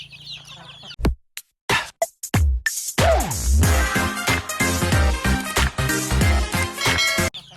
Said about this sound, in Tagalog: Tayo ay nagpapakain ng manok.